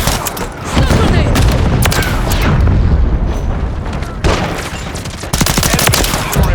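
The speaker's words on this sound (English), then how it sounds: "Stun grenade!" A video-game firefight with a stun grenade blast among loud, rapid gunfire bursts, dense and close throughout with brief pauses between volleys and voices calling out in the mix.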